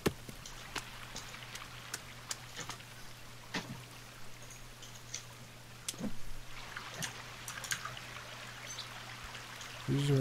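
Footsteps splash through shallow water in the survival video game The Forest, a series of soft watery slaps and trickles spread over several seconds, fairly quiet against a steady low background hum.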